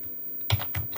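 Two or three quick keystrokes on a computer keyboard, entering a number during drafting work, close and crisp against a quiet room.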